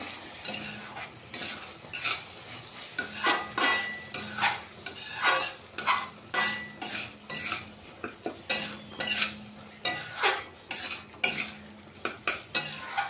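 Masala with added sugar is stirred in a pan for a potol chingri dish, each pass a loud, rhythmic scrape of a spoon against the metal over a soft sizzle, repeating steadily and close up.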